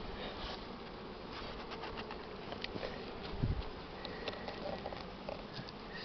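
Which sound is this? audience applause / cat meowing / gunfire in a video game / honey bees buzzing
honey bees buzzing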